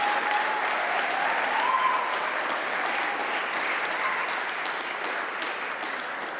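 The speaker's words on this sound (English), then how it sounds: "Let's give one more round of applause for our Fifth Third Bank Madisonville interns." Steady audience applause at a graduation ceremony honoring bank interns in a job-training program, a dense even patter of many hands sustained throughout at moderate distance, with no talk over it.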